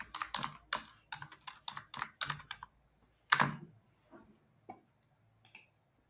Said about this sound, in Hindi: So let's type this keyword.